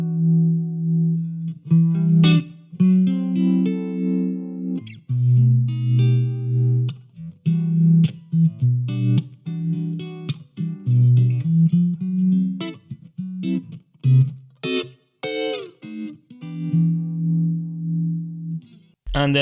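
An electric guitar through a Line 6 Helix Fullerton amp model and Powercab picks a slow melody through a pulsing tremolo effect, clean and close, with no voices.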